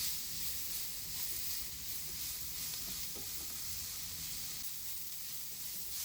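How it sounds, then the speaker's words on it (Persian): Ground coriander seed and cayenne pepper sizzle in a hot pan while being stirred, a steady close frying hiss with soft scraping running evenly throughout. "ادویه رو که اضافه کردم به مدت 30 ثانیه مخلوط میکنم"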